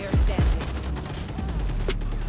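Gunfire in the tactical shooter Valorant: a couple of loud, close shots at the start, then steadier game action sounds with a later burst, no voices.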